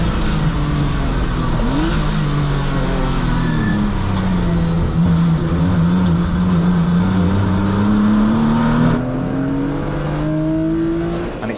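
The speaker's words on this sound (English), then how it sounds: "And it's another fantastic start from the number 15 car of Shiraz Khan" Porsche race cars roar off together at a race start, a loud, continuous engine drone with a rising pitch sweep as the pack accelerates, with no voices.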